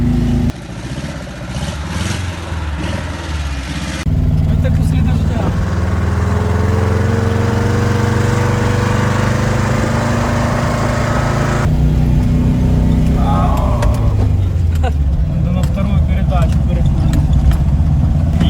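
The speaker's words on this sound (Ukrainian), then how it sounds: "Машина йде нормально, як танк йде." A ZAZ Zaporozhets car driving along forest tracks near Chernobyl, its small engine droning loud and close with shifting revs, while people talk over the noise.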